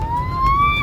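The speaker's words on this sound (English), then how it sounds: "Oh wait, that's a fire truck" A fire truck siren wails briefly at moderate distance, a single rising tone that holds steady and then drops away at the end, with low road rumble underneath.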